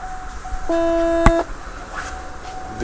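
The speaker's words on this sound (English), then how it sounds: "Okay, we got our alarms." Vital signs monitor alarm during a preventive maintenance check with a pressure meter and Fluke SPOTLight tester, a single loud sustained electronic tone lasting under a second, with a short sharp click in the middle, against a quiet room.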